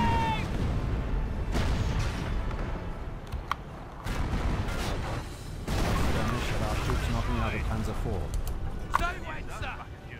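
A tank fires its main cannon in the Company of Heroes: Opposing Fronts strategy game, with several booming blasts and battle noise under voices and in-game speech.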